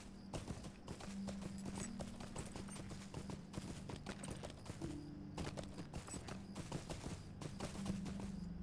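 Horse hooves clip-clop steadily in the video game Lord of the Rings Online, a brisk, even galloping rhythm running throughout without speech.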